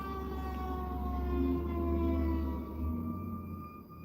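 Sirens from passing emergency vehicles outside, a steady wailing tone that swells louder midway and then begins to fade as they move off, heard alone without talk.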